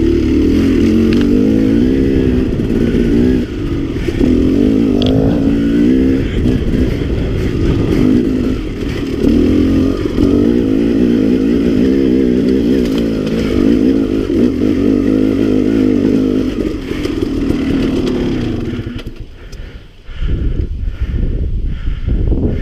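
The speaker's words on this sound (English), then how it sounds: "So I'm riding the KTM 300XC" Two-stroke KTM 300XC dirt bike ridden through aspen woods, its engine droning loud and close with steady revving and throttle swells for most of the stretch, then cutting back to quieter idling bursts near the end.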